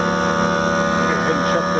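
A Ryobi propane-powered portable generator runs steadily nearby, its engine drone loud and even with no pauses.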